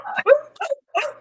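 Dogs bark and yip at night in a few short, close bursts with brief gaps between them.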